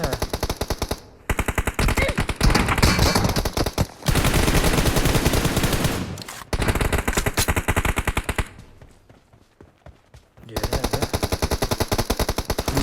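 Rapid automatic gunfire from the video game PUBG, loud and sustained in long bursts with a couple of brief gaps and a quieter lull near the end before firing resumes.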